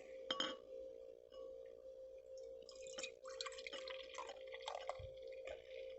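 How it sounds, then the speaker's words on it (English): An Orkney Gold New World Pale Ale is poured into a glass inside a 1988 Toyota Hiace campervan, with close fizzing, trickling and a few glassy clinks over a steady low hum. "an Orkney Gold New World Pale Ale. So let's start pouring that."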